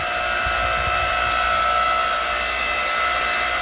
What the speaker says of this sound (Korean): 모터가 작동하게 되어 있습니다.